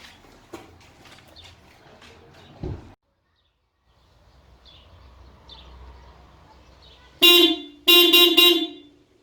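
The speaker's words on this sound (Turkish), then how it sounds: "Şimdi bir ilk başta ben size orijinal kornasını dinleteyim." A Renault Symbol's original car horn honks twice in loud, shrill blasts, preceded by quiet ambient noise and a few faint background sounds.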